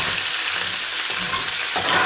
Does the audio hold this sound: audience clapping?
no